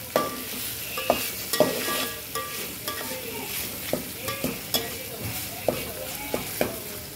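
Half a tomato goes into a hot pan of oil with asafoetida for a Maharashtrian biryani, giving a steady sizzle broken by repeated sharp scrapes and taps of a spoon stirring against the pan.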